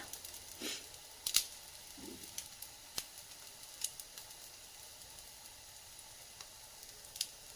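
Aloo tikki, potato patties, frying in a shallow layer of oil, a quiet steady sizzle broken by sharp crackles and pops at irregular moments, close up, with no talk.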